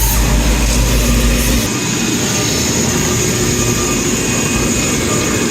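A rebuilt Strong Scott 5-ton ribbon mixer with a freshly rebuilt motor runs loud and steady, a dense continuous mechanical roar and hum up close, with a low rumble dropping away early on and no talking.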